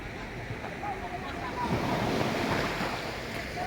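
Ocean waves wash onto Global Beach in Anda, Bohol, a broad continuous surf roar that swells slightly midway, mixed with wind buffeting the microphone.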